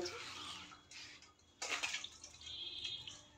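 Vegetables such as potatoes, pointed gourd, eggplant and tomatoes are rinsed under running water, a close, hissing splash that rises and falls as they are turned in the stream, with a louder gush partway through.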